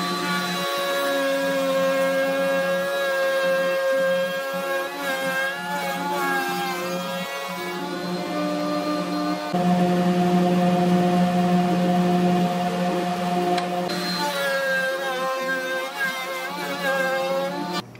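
A router fitted with a straight bit cuts a groove in wood while building a jointer and planer jig, a loud, steady, high-pitched motor whine that holds for the whole stretch with slight shifts in pitch under load.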